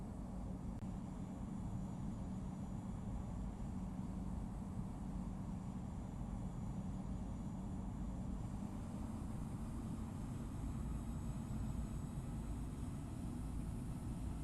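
Airliner engines spool up for takeoff in the Infinite Flight game, a steady loud broadband roar with a low drone that holds unbroken, no voices.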